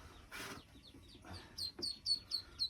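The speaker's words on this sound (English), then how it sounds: "now we've got the ducklings up here" Ducklings in a brooding box, a dozen of them, give several short, high, close peeps in a quick run, with soft rustling and faint background noise.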